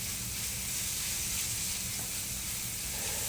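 Sliced onions sizzling in a hot pan, a steady bright hiss of frying that holds evenly throughout with no talking, close and fairly loud.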